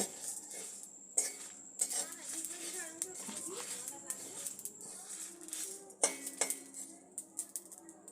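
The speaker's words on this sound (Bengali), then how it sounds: "শুকনো কড়াতে এইবারে দিয়ে দিলাম সমস্ত মশলা এবারে এই মশলাগুলো খুব ভালো করে ভেজে নেব" A utensil stirs dry spices roasting in a kadai, with light scraping and sharp metallic clinks at irregular intervals while voices murmur faintly in the background.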